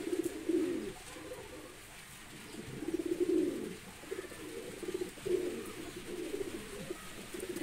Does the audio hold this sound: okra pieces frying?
no